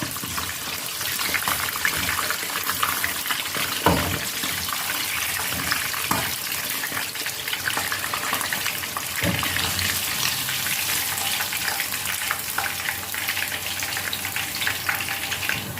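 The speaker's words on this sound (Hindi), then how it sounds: "इसी तरह मैं बाकी भी सारी फिश फ्राई कर लेती हूँ" Lahori masala fish pieces frying in hot oil, a steady dense sizzle and bubbling that fills the whole stretch, with a few brief louder crackles and knocks along the way.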